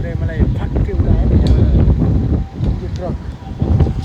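Strong storm wind buffets the microphone in heavy, rumbling gusts that rise and dip, with a person speaking over the roar.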